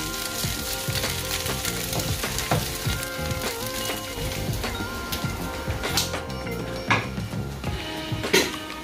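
Sisig sizzles loudly on a hot sizzling plate, a dense crackling hiss mixed with scraping and clinking of utensils against the metal, continuous and close throughout.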